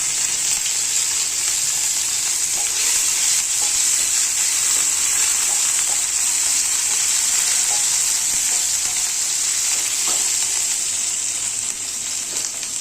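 Loud, continuous sizzle of oil frying in a pan with tomato added for a bitter val bean dish, plus occasional stirring scrapes. No voices are heard.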